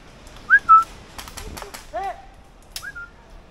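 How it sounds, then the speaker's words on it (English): A person hidden in a ghillie suit on an airsoft field whistles short, clear upward-sliding notes, one pair, then a bending tone and a final chirp, close and fairly loud over quiet outdoor background. "Let's see if I can get his attention by whistling so he takes a picture of me"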